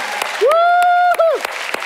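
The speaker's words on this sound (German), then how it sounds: "wir applaudieren jetzt am Anfang, dass Gott sprechen wird" A church congregation claps in rhythm at the start of a German-language sermon, with sharp near claps and a sustained cheering voice over them.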